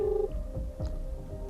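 Steady electronic telephone tones sound as a call is placed, with a brief higher tone at the start and a continuous hum beneath, close and alone.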